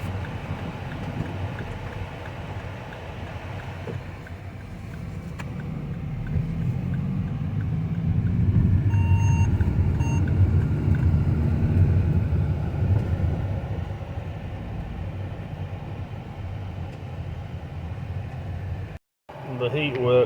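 A car heater blows hot air in a steady low rumbling whoosh with a faint fan whine, swelling midway and then easing, with light movement noises near the end.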